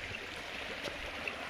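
Slow, shallow stream water flowing through forest near Ranichua waterfall in Bargarh, a steady soft rushing wash with no other sounds.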